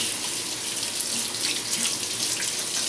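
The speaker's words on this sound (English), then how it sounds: "So make sure you wash your hands because you're going to be getting your hands in the dough" A kitchen tap runs steadily while hands are washed before making homemade pizza, a continuous close hiss and splash of water into a sink with no pauses.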